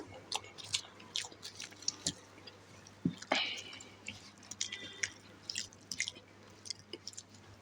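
Crunchy, wet chewing of crispy raw banana bajji fritters, close and intimate, with irregular bites and squishy mouth sounds over a steady low hum.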